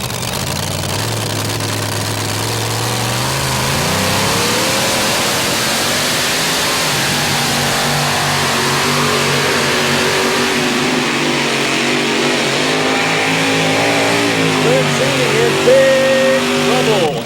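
Mini modified pulling tractor engine revving hard through a pull at the 1999 NTPA event in Tomah, Wisconsin, a loud sustained roar that rises in pitch, with an announcer talking over it.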